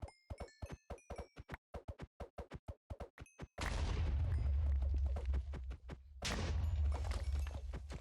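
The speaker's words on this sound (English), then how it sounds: "Getting a few loot explosions." Explosions in a Minecraft All the Mods 9 modpack, a rapid string of sharp popping bursts with bright chimes, then two long, loud rumbling blasts that fill the foreground.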